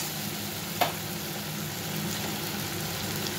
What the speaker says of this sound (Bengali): এই দেখো জলটা আমি গরম জলটা দিয়ে দিলাম।